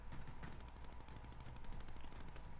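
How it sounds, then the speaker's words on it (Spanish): Rapid bursts of video game gunfire crackle through a dense, steady layer of noise, the shots sounding distant and fast without clear separate reports. "Escucho disparos"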